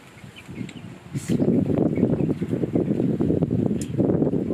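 Wind gusts outdoors at a rural home in Kalasin province, Thailand, a steady rushing noise with microphone buffeting that swells after a quiet start and stays fairly loud throughout, with no talking.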